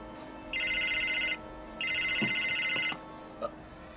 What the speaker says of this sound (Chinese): 我去接通电话。